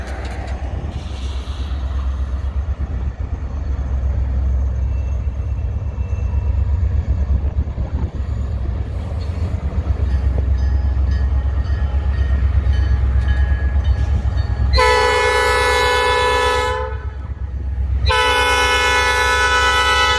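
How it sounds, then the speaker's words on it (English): A long freight train of empty log cars and grain cars rumbles steadily past close by with continuous rolling noise, then a loud horn blasts twice near the end. "Oh yeah, pretty long train."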